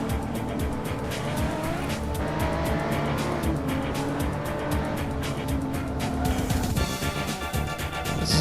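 Race cars at Laguna Seca roaring continuously at close range, engines screaming with overlapping revs and tire squeal, loud and dense throughout without any voices.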